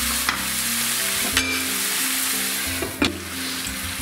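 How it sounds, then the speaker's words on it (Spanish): Fried tomato is mixed into sautéed peppers and mussels in a pan for an empanada gallega, a steady sizzle broken by several sharp scraping stirs, close and clear, with no voices. "Y ya le incorporo el tomate frito, lo mezclo."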